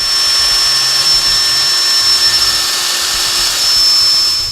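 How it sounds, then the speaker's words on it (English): Steady, high-pitched whine of a Dremel rotary tool grinding down a plastic part of an Axial EXO Terra RC buggy kit, held close and unbroken for several seconds with no talk. "I'll just go Dremel down the rearward face of this a little bit"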